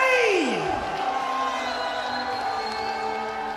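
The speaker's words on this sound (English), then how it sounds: "Guys, you aren't cheering loud enough." Large crowd at a Fortnite tournament roars and whoops, the cheering sustained and loud throughout, with a falling yell at the start and voices mixed into the din.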